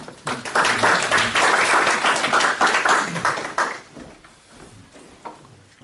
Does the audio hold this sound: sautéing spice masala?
no